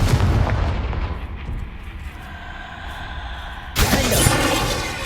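A heavy fiery blast with a rumbling decay, followed by a second sharp explosive burst, from the Confringo blasting spell in the video game Hogwarts Legacy, loud and close amid combat sounds.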